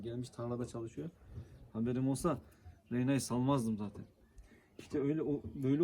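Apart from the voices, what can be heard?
None of the usual background noises is heard.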